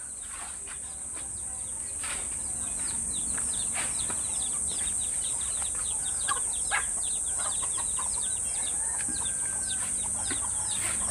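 A rooster clucks in short repeated bursts over a steady high insect drone, outdoors and fairly close, with no voices.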